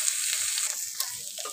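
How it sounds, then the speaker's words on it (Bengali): Dried fish (shutki) and vegetables frying in oil, a steady close hiss and sizzle with faint stirring scrapes, no talk over it. "তো সবজিগুলো দিয়ে দিলাম শুটকিটা ভাজা হওয়ার পরে"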